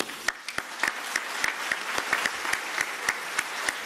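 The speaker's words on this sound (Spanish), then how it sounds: "yo creo que un aplauso para el público." Applause from an event audience, requested just before a deputy's closing remarks: steady broadband clapping with sharp individual claps standing out, moderately distant and filling the room, with no voices over it.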